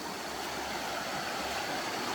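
Mountain water rushes through jungle on Koh Chang as a steady, close stream: an even broadband wash with no pauses.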